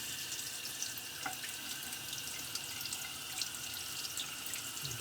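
Tap water running steadily into a sink while a two-piece safety razor is rinsed after a shave, a soft even flow with small splashes, no voices.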